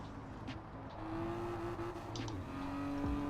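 Game engine of a 500hp Miata grip build in Forza Horizon 4, a steady harmonic drone that climbs in pitch and drops back as it shifts up through the gears, loud and continuous with a faint tire noise.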